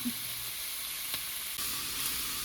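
Onions and sausage frying in a pan for cowboy hash, a constant close sizzle with a light scrape of stirring partway through.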